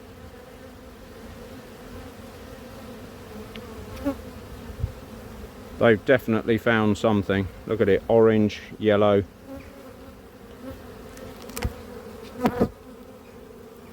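Loud buzzing of honeybees close by at the hive during a honey flow, swelling in dense bursts over a steady hum, with a person speaking now and then.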